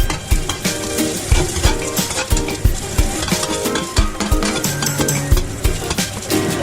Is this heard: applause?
no